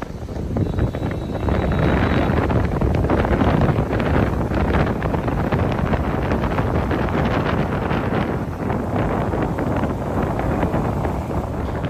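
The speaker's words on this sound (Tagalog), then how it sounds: "Ito po yung lakas ng hangin dito." Strong wind blowing at a seaside baywalk, roaring steadily and loudly into the microphone with constant buffeting gusts throughout, no speech.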